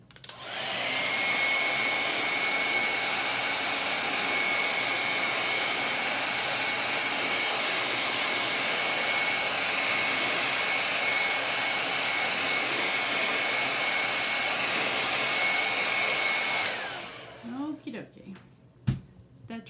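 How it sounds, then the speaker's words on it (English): A hair dryer drying a Chalk Couture craft project blows with a steady, loud whooshing roar and a faint whine, running continuously before cutting off near the end, followed by light handling noises. "I'm just gonna dry this quick with my hair dryer"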